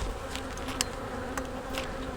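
Honey bees buzz steadily around an Apimaye hive during a queen cell transplant split, a continuous close hum with a few brief louder passes, no talking.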